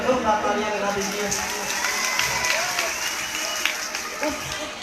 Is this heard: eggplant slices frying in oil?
no